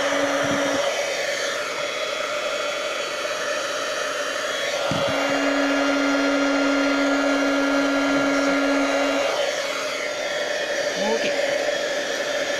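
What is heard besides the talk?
heat gun for heat embossing on card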